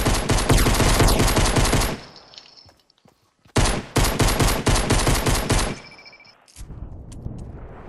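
Rapid gunfire in a shooter video game comes as two long, loud, close bursts separated by a short pause, followed by scattered thuds and softer rumbling, with no one speaking.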